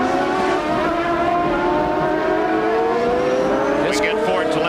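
Ford-engined CART race car at the 1993 Laguna Seca round, engine note rising steadily as it accelerates uphill, loud and continuous, with a commentator talking over it.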